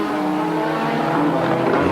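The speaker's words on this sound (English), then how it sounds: "knocking it up to 200 miles an hour, then hard on the brakes" A Formula One race car from 1986 Australian Grand Prix qualifying is braking hard from high speed. The loud, close engine note holds steady with a harsh, buzzy tone for about two seconds. No one speaks.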